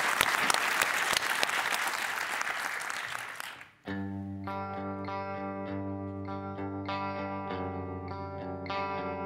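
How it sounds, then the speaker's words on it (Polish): Loud audience applause and cheering at a live pop concert fills the first four seconds, then cuts off as a band with guitar starts playing a song. "Wielkie brawa!"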